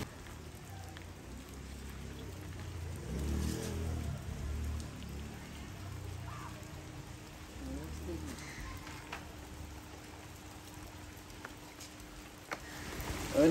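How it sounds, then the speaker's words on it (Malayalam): Fairly heavy rain falls steadily as a continuous broadband hiss, with faint low thumps and murmurs mixed in. "അവരിവിടെ വന്ന സമയത്ത് തന്നെ അത്യാവശ്യം നല്ല മഴയും പെയ്ത്"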